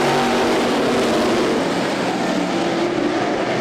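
Short-track race cars roar off a green-flag start at a night heat race at an Ocala oval, a dense, loud wall of engine noise that sits steady and continuous throughout.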